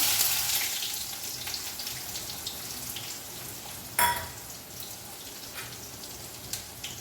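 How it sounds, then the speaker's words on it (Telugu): Onions hit hot oil in a pan and fry with a steady bright sizzle, a sharp burst of crackling partway through, then a continued hiss that fades slightly, close and alone. "ఆనియన్స్ వేస్తున్నా"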